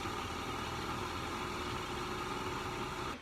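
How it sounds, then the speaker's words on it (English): A pool pump runs with a steady, loud mechanical hum and whir that holds constant throughout, close by, ending with a slight drop at the very end. "The pump is spinning."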